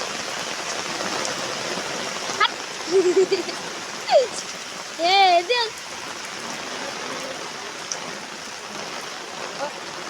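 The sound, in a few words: rain falling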